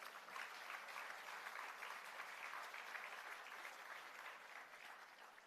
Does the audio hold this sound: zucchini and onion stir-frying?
no